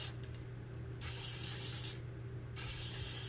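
Two bursts of aerosol fixative spray hissing close by over a charcoal drawing, each lasting about a second, separated by brief pauses, over a steady low background hum.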